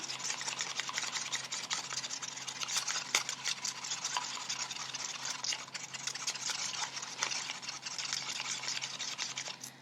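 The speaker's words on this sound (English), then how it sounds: "all you have to do is mix the pigment in with the clear resin" A stick stirs colored pigment into clear resin in a cup, giving a steady, close scraping and rubbing sound that runs without pause.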